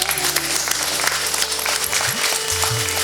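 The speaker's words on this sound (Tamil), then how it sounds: "வருக நல்ல கரங்கோஷம் கொடுக்கலாம்" Audience applause at a dance school salangai pooja event, a dense sustained wash of many hands clapping, loud and close, with faint voices mixed underneath.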